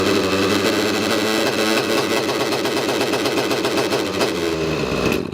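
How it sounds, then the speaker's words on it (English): An OS 105HZ R model nitro engine runs out of fuel on the bench after its line is clamped, a loud buzzing whine that hunts and surges unevenly as it leans out before cutting off abruptly at the end. "Release the fuel line, let the engine run out."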